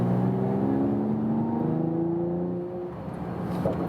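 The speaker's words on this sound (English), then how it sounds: "And the exhaust noise is a little louder." Mercedes E53 AMG estate (2019 E-Class) in Sport Plus mode, its exhaust note a steady, fairly loud engine drone that holds through most of the stretch, easing slightly near the end, with no talking.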